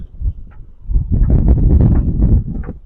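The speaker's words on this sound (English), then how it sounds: "So it's a bit windy out." Wind gusting across a Jeanneau Leader 805 motorboat, a loud, rumbling buffeting against the microphone that swells and holds through the middle, with no speech.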